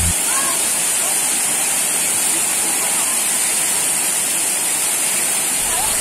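Curug Kalba, a seasonal waterfall in the southern Serayu mountains, roars as a steady, loud, dense rush of falling water that fills the whole clip without a break.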